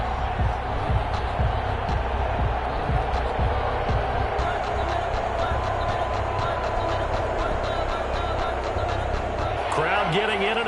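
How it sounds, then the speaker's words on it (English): A stadium crowd in an American football video game sends up a steady, dense roar that fills the whole stretch, with a commentator's voice running over it. "Crowd getting in it a bit already."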